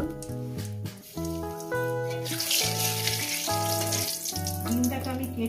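Turmeric and salt sizzle in hot oil, a bright hissing fry rising after a moment and continuing under a plucked musical melody.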